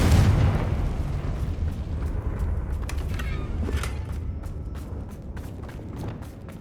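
A Confringo explosive spell goes off in the video game Hogwarts Legacy: a loud, deep blast opens the clip, then a long rumbling roar with scattered crackles and bursts that slowly fades.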